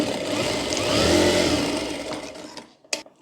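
A sewing machine runs a continuous stitching burst while pleats are sewn on a net baby frock, whirring steadily for about two seconds before slowing and stopping, followed by a couple of short clicks.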